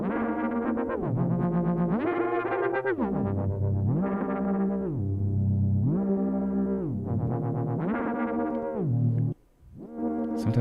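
Elektron Digitone synthesizer playing a sustained, heavily effected tone whose pitch slides up and down in long glides, thick and distorted with echo, continuous and loud before a brief dip near the end.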